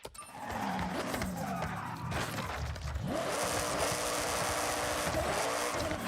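A car engine roars at speed in the Forza Horizon racing video game, loud and continuous, with tires squealing and the revs shifting as the car moves.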